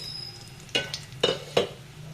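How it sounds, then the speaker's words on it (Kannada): Mustard seeds, curry leaves and lentils sizzle in hot oil for a puliyogare tempering, with three sharp crackling bursts spaced over a steady low frying hiss, close by, no talk. "ಎಣ್ಣೆ ಬಿಸಾದ ಮೇಲೆ ಸಾಸಿವೆ ಹಾಕೋಣ ಈಗ ಕರ್ಬೇವು ನಂತರ ಬೇಳೆಗಳು"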